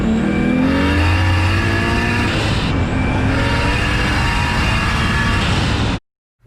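A BMW E36 drift car with a new exhaust revs hard and loud, its engine note rising and holding through several seconds of continuous snarling before stopping abruptly.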